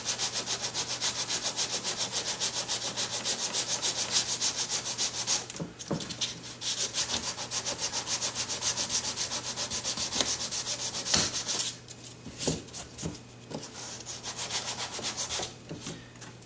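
A small power sander works over body filler during paint prep, giving a steady, close, rasping rub that runs almost continuously with a few brief pauses and shifts in pressure.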